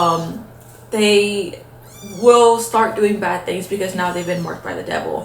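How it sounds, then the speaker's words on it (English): Newborn kittens and their mother cat meow intermittently in the background while someone talks steadily over them. "So sorry if you hear like any meowing,"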